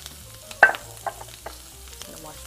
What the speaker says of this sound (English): You hear that sizzling there, folks? That's marking the meat.